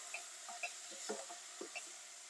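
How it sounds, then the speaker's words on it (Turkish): Spices and salt stirred into onions frying in a pan, quiet soft scraping strokes and light spoon taps repeating over a gentle steady sizzle. "Yarım çay kaşığı daha tuz ilavesi yapıp şöyle güzelce karıştırıyorum."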